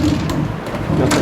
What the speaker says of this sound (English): Noisy little door, but don't have to worry about that